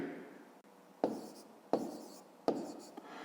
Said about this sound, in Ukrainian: Записуємо 284.